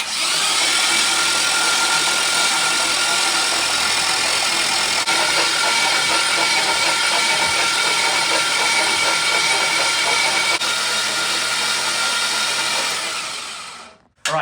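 A 1972 Chevrolet Nova's newly swapped LS 5.3-litre V8 with a performance cam runs steadily with a harsh mechanical whir, close by, for a long stretch before cutting off abruptly at the end.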